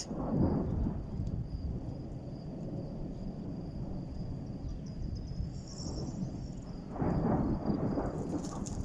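Steady rain hisses and patters with a low rumbling wash, swelling slightly at moments, heard from nearby without voices.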